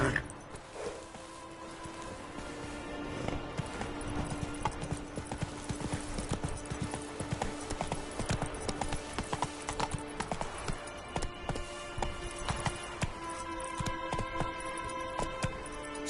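Roach, a horse in a video game, gallops along with a steady run of clip-clop hoofbeats over a low background hum, continuous and fairly close, without talking.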